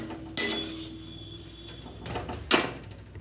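Arbi (taro) leaves being stirred with salt in a kadhai, with two distinct metallic clinks and clanks of a utensil against the pan, separated by a quiet stretch of soft background hum.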